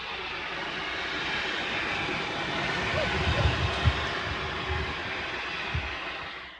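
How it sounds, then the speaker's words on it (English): Two narrow gauge steam locomotives working as a double header climb steep grades and sharp curves on Colorado's San Juan extension, giving a steady loud rumbling drone with a few louder chuffs and thumps near the middle. "Smoke pours from the stacks as the engines negotiate the sharp curves and steepening slopes."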